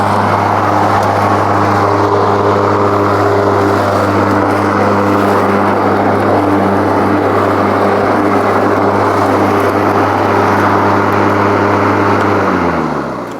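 An EGO 56V battery electric lawn mower runs continuously with a loud, steady whirring drone of the spinning blade, close by, before winding down at the end.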